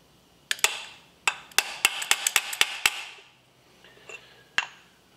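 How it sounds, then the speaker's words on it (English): Sharp metallic hammer blows on a transfer punch marking a bolt hole during a Harley-Davidson Shovelhead chopper build, about a dozen close, loud strikes in an irregular burst, then a pause and one final hit. "So first thing we'll do is transfer punch our first hole."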